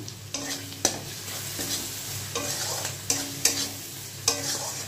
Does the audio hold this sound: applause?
no